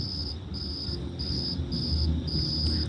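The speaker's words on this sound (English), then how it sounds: "Crickets are louder." Crickets chirp outdoors in a steady pulsing trill, bursts repeating about every half second, moderately loud and continuous over a low background murmur.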